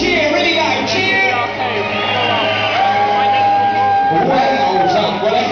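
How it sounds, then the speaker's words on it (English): A loud audience at a children's show cheers and shouts continuously, a dense roar of voices and whoops that stays strong throughout. "Well done, everybody cheer, really loud, cheer!"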